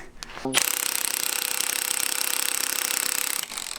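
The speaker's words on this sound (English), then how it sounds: "now we're gonna use the spring compressors to compress it and get this bolt fully on" An impact-driven spring compressor squeezes a coil spring, an Eibach lowering spring, on a 2015 Dodge Challenger. A short clatter gives way to a loud, continuous rapid hammering rattle for about three seconds, then it stops.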